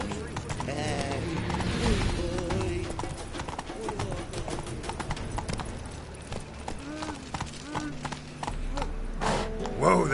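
The horse Roach trotting in The Witcher 3, with steady clip-clop hoofbeats and an occasional whinny over a busy town ambience, while voices talk throughout.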